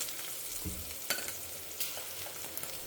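Stalks sautéing in a pan for Karnataka-style thili saaru rasam give a steady soft sizzle with a few scraping stir strokes, close by and fairly quiet, with no talk.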